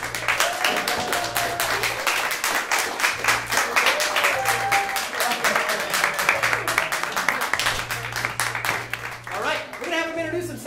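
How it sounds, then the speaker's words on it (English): Audience applause and cheering greets improv players taking the stage at an Improvarama comedy show; rhythmic clapping runs throughout while a voice talks over it, ending with brief whoops near the close. "Let's give them a round of applause."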